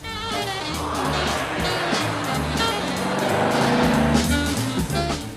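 An Aston Martin V8 Vantage Volante's engine rumbles steadily under loud, dense music, with no clear pass-by or rev change.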